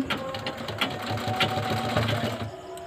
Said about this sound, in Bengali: ক্যাঁথাটা একটু সেলাইটা করে নিয়ে দিয়ে দেখাচ্ছি